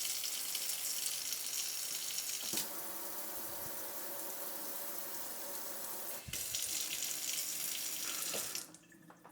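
Water runs steadily from a Moen kitchen faucet's pulldown sprayer into a sink, a close, even hiss that shifts in tone twice as the flow changes, then stops near the end.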